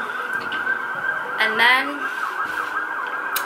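Emergency vehicle sirens pass outside during a grocery haul, a wailing tone rising and falling steadily at moderate distance beneath a brief bit of speech.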